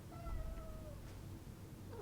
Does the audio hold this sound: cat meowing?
yes